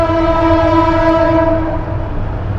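A train sounds its horn at a level crossing on a road, the long steady blast loud and close over a continuous rumble of passing rail cars, with no one talking.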